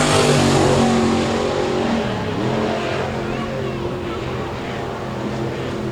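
A Pro Mod drag race car finishing a lap toward the checkered flag, a loud, continuous broadband engine roar that eases slightly partway through, with a voice faintly under it.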